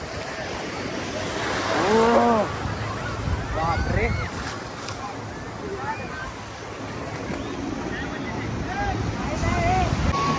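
Surf rolls in continuously on a Konkan beach shoreline, a broad roar with wind buffeting the microphone, while several people shout and talk over the water.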